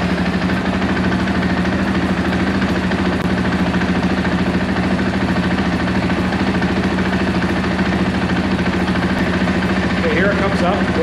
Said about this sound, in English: We're just going to get this, get the bike rolling. It's going to get noisy for just a second.